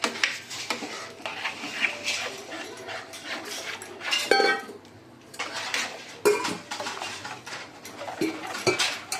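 A ladle scrapes and clinks against a metal pot, stirring powder into a tamarind vatha kuzhambu curry in quick bursts of irregular strokes with brief pauses between.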